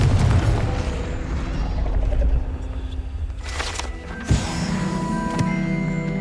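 A Confringo explosion spell cast in Hogwarts Legacy, a short fiery blast that bursts out about two-thirds of the way through and then leaves a ringing, shimmering tail over a steady rumbling background.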